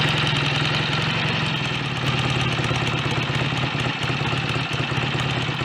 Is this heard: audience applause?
no